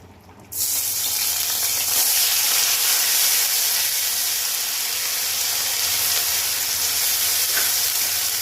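Onion paste hits a hot pan for a Bengali bhetki fish curry with potatoes, bursting into a loud, continuous hiss and sizzle that starts abruptly and holds steady, close and unaccompanied by talk.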